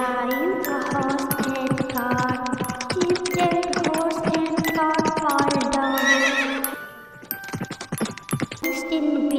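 A cartoon horse neighs in a nursery rhyme about five little ducks, a bright whinny repeated over bouncy children's music with clip-clop rhythm, loud and close, ending with a short pause and a spoken word.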